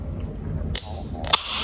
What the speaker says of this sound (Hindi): उसके बाद ये जब ड्रिंक खोला आवाज़ चेक करना